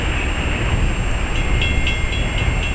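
A loaded coal train rumbles past steadily, with a constant low roar and faint rhythmic clacks from the wheels, fairly close and loud throughout.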